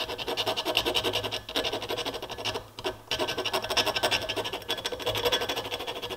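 Steady back-and-forth rasping of a file on piston ring ends as they are gapped for an engine rebuild, close and continuous strokes with one brief pause partway through.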